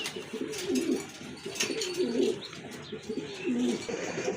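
Soft, repeated cooing of a pigeon in three or four rolling phrases, fairly close, with faint chirps in the background.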